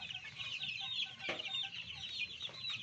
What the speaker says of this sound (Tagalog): Mga lods, ito linabas na naman natin yung mga sisiw ngayon.